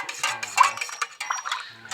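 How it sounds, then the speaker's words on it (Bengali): A metal spoon stirs Rasna drink in a glass or pot, giving quick, close clinks and scrapes against the sides in an irregular rhythm for about two seconds, with no voices. "চামচ দিয়ে একটু এইভাবে গুলিয়ে নেব।"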